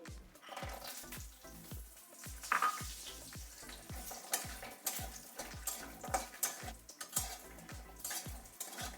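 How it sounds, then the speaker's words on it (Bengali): Lentil dumplings (bori) fry in hot oil, giving a busy crackling sizzle broken by a quick, regular run of spatula taps and scrapes against the pan, close by and without voices. "তেলটা গরম হয়ে গেছে, তো বড়িগুলো আগে একটু ভেজে নিই।"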